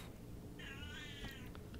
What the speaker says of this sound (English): That's the cat meow in there.